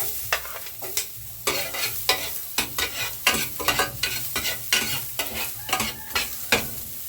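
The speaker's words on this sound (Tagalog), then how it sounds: "Ako ginigisa ko. Unahin mo natin ang luya." Ginger sautéing in hot oil for Visayan-style tinola sizzles continuously while a spatula stirs it with regular scraping strokes, close and fairly loud, with no speech.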